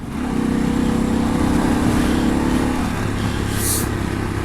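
A 2021 Harley-Davidson Pan America motorcycle being shifted without the clutch on a country ride: a loud, steady engine drone under rushing wind, its pitch dropping as the gear changes near the end.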